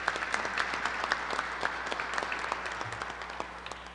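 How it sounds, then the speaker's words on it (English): A big round of applause for college presidents at a university lab unveiling, steady crowd clapping from a moderately distant audience that holds evenly for several seconds and fades slightly at the end. "so let's give them a big round of applause"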